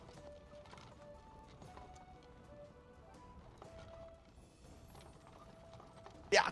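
Horse hooves clip-clop in the Life is Feudal video game, a quiet irregular series of hoofbeats among faint game mechanism sounds, ending with a brief sharp noise.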